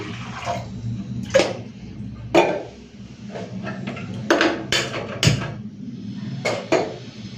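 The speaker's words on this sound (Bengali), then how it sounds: "এখন প্রেসার কুকারে ভাত বসাবো, তার জন্য জল দিয়ে দিচ্ছি।" Water is poured into a pressure cooker for rice, a splashing, sloshing pour broken by sharp metallic knocks and clanks of the pot at irregular moments, fairly close and with no talking.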